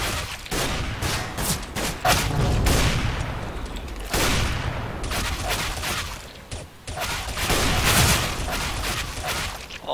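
Rapid bursts of gunfire in a video game, dense overlapping volleys of automatic shots crackling loudly almost without pause, with brief lulls between heavy exchanges and no talk.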